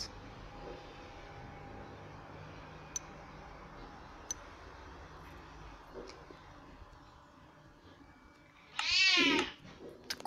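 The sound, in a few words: cat meowing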